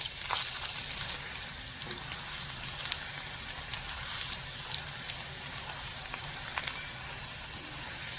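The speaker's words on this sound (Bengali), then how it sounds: "তেলটা গরম হয়ে গেলে প্রথমে আমি বড়িগুলো ভেজে নেব" Broken pieces of bori, small lentil dumplings, frying in hot oil: a steady close sizzle with fine crackling pops throughout, no talk.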